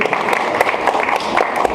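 An audience at a Brazilian conservative conference gives a short burst of applause for a journalist, a dense, lively patter of many hands clapping together throughout.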